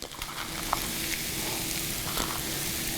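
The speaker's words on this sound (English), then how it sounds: "Now we're going to come back and add our seafood that we chopped earlier." Chopped seafood and green onions frying in a pan, giving a steady, moderately loud sizzle with a few faint clinks of stirring and no voices.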